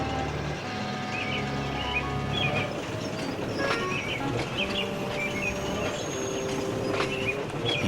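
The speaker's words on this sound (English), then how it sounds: "He shunted them in the middle of the train" Railway shunting of fuel tankers rolls and clanks steadily nearby, with wheel squeals and metallic clunks over a continuous rumble, while birds chirp in the background.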